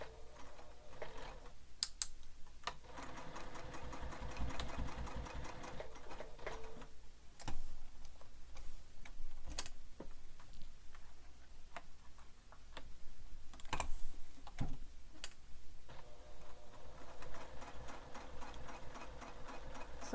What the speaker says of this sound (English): So I'm sewing all the way up.